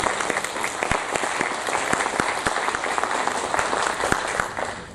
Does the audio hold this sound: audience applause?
yes